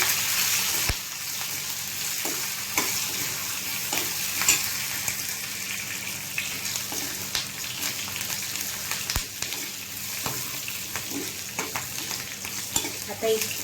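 Curry leaves and green chillies sizzle and crackle in hot oil for a dal tempering, stirred with a spoon: a steady close frying hiss broken by sharp pops and scraping stirs, with no voices.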